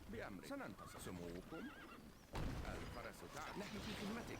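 Several horses whinny in short, wavering bursts over a busy background of thuds, clatter and hooves in Stronghold Crusader video game battle, then a heavy impact and more scattered neighs.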